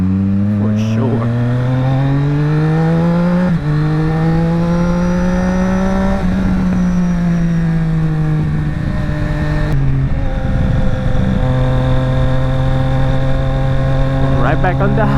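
A motorcycle carrying luggage rides through city streets, its engine a steady, loud drone that rises and falls in pitch as the rider shifts and changes speed, heard up close throughout.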